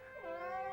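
Short cat meow from an animated feature, a single drawn-out, rising-then-falling call heard alone, fairly soft and close.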